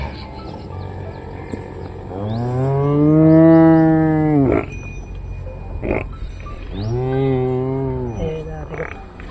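Cows in a cattle shed, among them a large cow left fearful after its horns were burned: two loud, close moos, the first long and rising then falling, a second shorter one after a pause, over quiet shed ambience.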